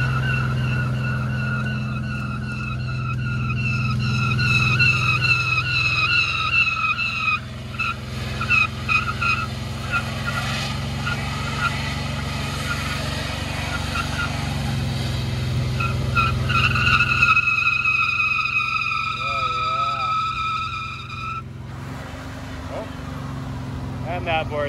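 Brand new Chevy Impala doing reverse donuts with the e-brake, tires skidding and squealing in long continuous screeches over a revving engine, loud and close, with people talking throughout.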